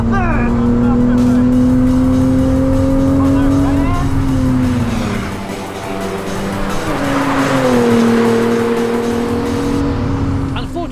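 A non-turbo Toyota MK4 Supra driven hard on a race track, its engine loud and close, holding high revs, dipping as it shifts, then climbing again, with tyres squealing through corners and someone talking over it.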